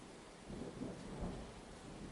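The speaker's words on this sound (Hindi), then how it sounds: "आधी रात को मौसम बदलता है और बारिश और तूफान आ जाता है।" Thunder rolls under steady heavy rain in a Hindi cartoon story about a night storm over a village, a low rumble swelling twice through a dense, even hiss of rainfall.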